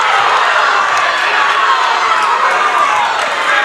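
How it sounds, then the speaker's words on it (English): A packed high school gym crowd at a boys' varsity basketball game, Portland High against Scarborough, lets out a loud, steady roar of disapproval over a possible travel, sustained and dense with no break. "The crowd is unhappy as they believe there was a travel"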